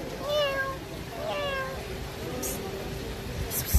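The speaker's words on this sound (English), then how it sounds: "Tame cats. House cat." A house cat meows twice, short rising-falling cries close by, with soft background noise and a faint rustle near the end.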